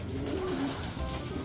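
Racing pigeons arriving home after a mid-distance toss from San Nicolas give soft, low cooing calls, faint against a steady outdoor background, with no one talking.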